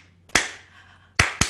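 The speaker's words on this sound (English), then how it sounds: "keep clapping" At a women's a cappella and comedy concert, a few sharp, loud handclaps ring out: one near the start, then two more in quick succession near the end, with quiet in between.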